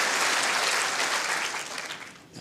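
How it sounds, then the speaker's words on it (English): Crowd applauding at the 2018 World Indoor Women's Singles bowls final, a dense, loud, sustained clatter of clapping that fades slightly toward the end. "And the crowd appreciates it as well."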